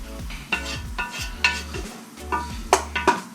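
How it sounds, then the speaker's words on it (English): Garlic stirred into a hot pan with pork and vegetables, a steady sizzle under repeated scraping and clinking of a utensil against the pan at close range. "Now is when we add our garlic."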